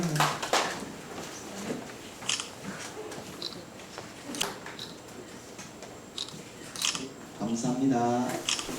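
Camera shutter clicks, sharp and brief, repeat several times while a commemorative photo is taken at a literary award ceremony, with a crowd murmuring and a voice speaking in the background.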